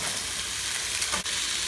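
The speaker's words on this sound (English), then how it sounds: "I'm just sauteing the carrots with the vegetables." Carrots and other vegetables sautéing in a pan for a pot roast, giving a steady close sizzle and hiss throughout, with a brief stir near the end.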